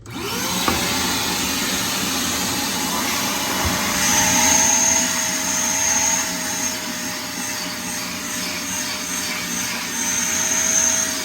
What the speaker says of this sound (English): We'll vacuum it out the best we can, just so Tucker can sleep better tonight.